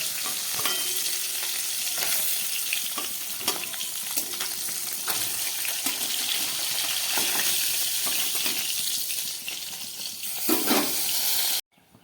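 Fish fry in hot oil in a home kitchen with a steady, dense sizzle throughout and occasional sharp clinks of a utensil against the pan as the pieces are lifted out. No one speaks.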